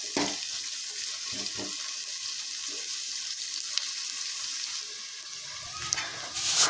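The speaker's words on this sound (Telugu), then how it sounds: "ఆనియన్స్ అయితే వేగనిస్తాను కొంచెం రెడ్ కలర్ వచ్చేటట్టు." Onions fry in a pan with a continuous soft sizzle, close and fairly quiet, with a few light clicks and stirring scrapes.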